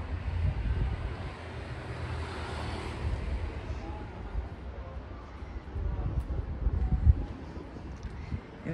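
Wind blowing steadily across a balcony, a broad rushing roar with a deep low rumble that swells in gusts and never drops away.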